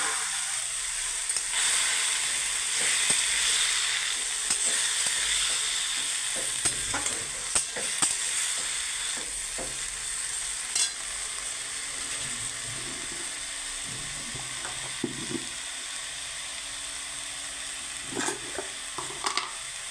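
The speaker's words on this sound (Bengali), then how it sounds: "এটা এবার লাল শাকটা ঢেলে দিলাম।" Red amaranth greens sizzle and hiss in a hot pan of oil, with steady frying crackle and occasional scrapes of a spatula as they are stirred, close and continuous throughout.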